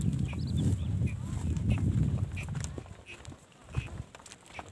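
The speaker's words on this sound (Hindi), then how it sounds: "हमारे गांव की ये भैंसें हैं।" Village buffaloes walking, their hooves making soft, irregular thuds and clops over a low rumbling background, louder at first and then fading, with a few sharper knocks toward the end.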